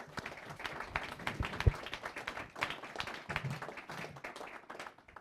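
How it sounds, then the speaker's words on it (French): Audience applause at a French academic study day, soft and fairly distant, scattered claps with a few sharper ones, no talking over it. "Je crois qu'on peut vous applaudir."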